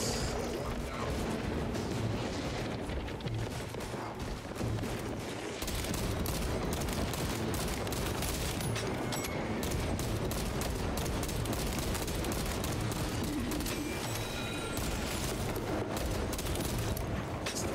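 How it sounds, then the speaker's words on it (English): Relentless gunfire in Space Marines 2 as enemies are shot down, dense rapid bursts and crashing impacts layered into a loud, unbroken battle din. "Just shooting them."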